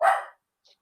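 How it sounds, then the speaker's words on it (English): A puppy gives one short, sharp yip close by, followed by a faint, brief trailing squeak, then quiet. "excuse the puppy dog that's barking"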